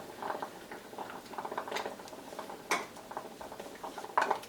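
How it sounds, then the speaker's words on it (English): Shea butter and vitamin E oil are stirred for lip balm, a utensil clinking and scraping against a container in a series of light, close taps and scrapes. "Give this a good stir,"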